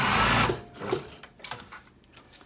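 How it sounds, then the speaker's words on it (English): A sewing machine runs a blouse shoulder seam in a loud, fast burst, then drops to a few shorter, quieter stitching spurts and mechanical clicks. "I just lift the foot and carry on sewing."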